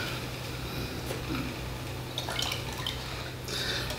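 Liquid painting medium trickles and drips through a nylon filter into a metal can, a faint, steady wet patter with a few brighter splashy drops toward the end, close by and with no voices.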